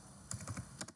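Quick keystrokes on a computer keyboard, a handful of light clicks in two short bursts, close and quiet, with no voice.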